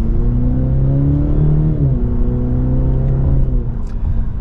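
A 2023 Cadillac CT5 Luxury 350T engine pulls hard from second gear, its steady rising drone climbing in pitch and briefly dipping at a shift before climbing again, loud and continuous from inside the cabin.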